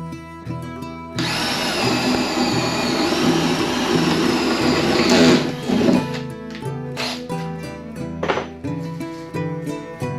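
A power drill bores a hole through a piece of wood, its loud, steady whine running for about five seconds. Shorter, quieter bursts of drilling follow, each ending as the bit comes to a stop.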